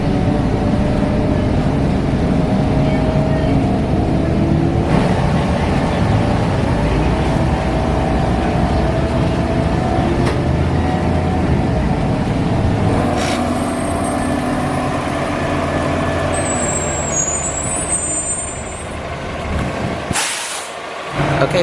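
A Triton Transit bus at UCSD rumbles loudly nearby, its engine droning steadily with a hiss of air brakes, and a sharp squeal toward the end as it pulls in.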